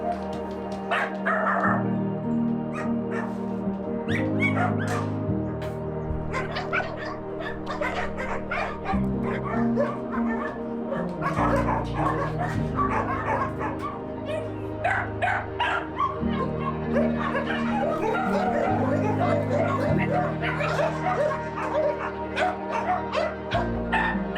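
A mother dog and her puppies at a street-dog shelter in Romania bark, yip and whimper continuously, with several overlapping high-pitched cries close by and some deeper barks mixed in.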